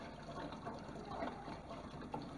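Water pours and splashes into a well tank in a short, fairly quiet burst of gushing, bubbling liquid with no talking.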